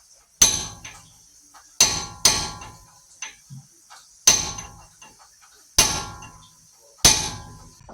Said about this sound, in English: you're going to go ahead and use a punch. And you're going to lock this nut in place right on the axle.